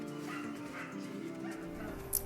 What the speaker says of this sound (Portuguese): Os cachorros latindo.